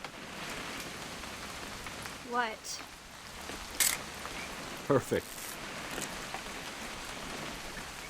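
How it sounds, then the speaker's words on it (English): Steady rain patters in a video game, What Remains of Edith Finch, a constant wash of drops on surfaces with a few brief clicks and a short spoken exchange over it. "It's gonna rain the whole weekend, isn't it?"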